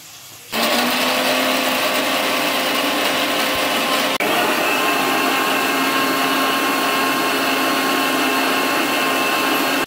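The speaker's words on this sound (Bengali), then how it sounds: "এগুলো আমি মিক্সির বাটিতে দিয়ে দিলাম পেস্ট করব বলে" A kitchen mixer grinder runs with fried vegetables loaded into its jar to be ground into a paste. Its loud, steady motor whir starts abruptly after a brief pause and continues without break, with no talking.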